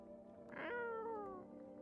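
A cat meows once in a horror video game, a single drawn-out falling meow with a brief rising onset, soft and fairly close over a low steady hum.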